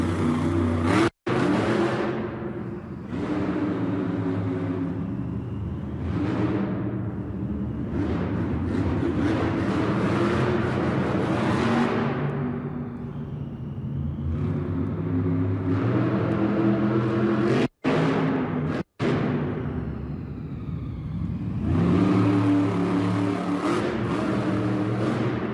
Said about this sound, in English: as you hear behind me, we're revving our engines this morning